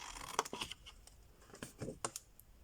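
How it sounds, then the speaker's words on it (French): Scissors snip through paper while a mini gift box is cut out, giving a few quiet, sharp crisp cuts spread out and close by. "couper pour le montage de la boîte. Couper comme ceci."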